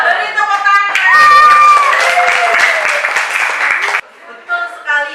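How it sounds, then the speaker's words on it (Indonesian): A group claps together for about three seconds in a lively burst that cuts off abruptly, with tonal voices heard before and after it. "Coba beri tepuk tangan."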